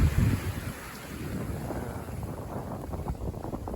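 Wind rushes over a sailboat racing under two reefs in the main through whitecapped seas blowing 15 to 20 knots, a steady broadband roar with a louder gust at the start, no voices.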